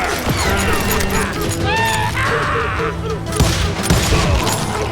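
Gunfire in the Call of Juarez: Gunslinger video game, a dense fusillade of rapid shots and impacts over a Western shootout, with shouting voices and game sounds mixed in throughout.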